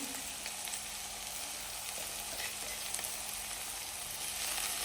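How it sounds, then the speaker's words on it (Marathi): Ghevda beans and onion frying in a pan, producing a soft, steady sizzle with occasional faint stirring scrapes at close range, with a low hum underneath and no voices. "आता घेवडी आणि कांदा एकत्र पुन्हा परतून घ्यायचा आहे"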